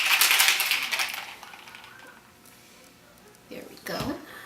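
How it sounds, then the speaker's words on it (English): Ice cubes rattle inside a cocktail shaker in a loud, dense burst of clattering at the start, fading out, with a few softer knocks and shuffles later. "our shaker is filled with ice. And we're going to shake it up"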